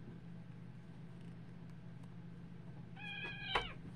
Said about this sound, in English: Please excuse my cats.